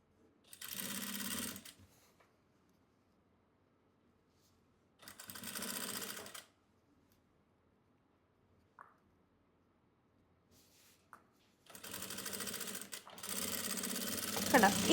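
A sewing machine stitches a petticoat in short, separate bursts of fast whirring with near silence between them, the last bursts running longer and louder.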